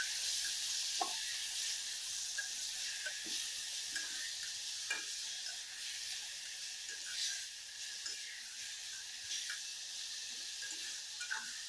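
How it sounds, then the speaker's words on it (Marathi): Cooked hyacinth beans and turmeric stirred in a hot pan, a steady broad sizzle with scattered scraping stir clicks throughout, close and alone. "हळद घालूया आणि हा घेवडा टाकूया शिजलेला।"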